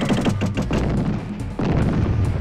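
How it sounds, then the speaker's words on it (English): Landmines explode in a mid-1990s video game: loud, deep booms come in rapid succession, ease briefly, then burst again at close range. "Oops, I'm stepping on landmines."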